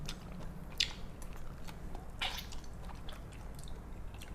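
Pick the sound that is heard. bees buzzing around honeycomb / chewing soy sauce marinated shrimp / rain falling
chewing soy sauce marinated shrimp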